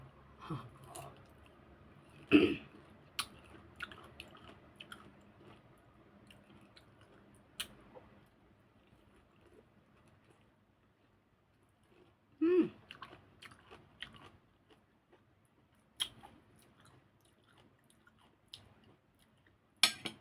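Someone eats sweet pineapple seasoned with salt, with wet, squishy bites and chewing sounds coming in bursts with pauses in between, close to the mic and fairly quiet.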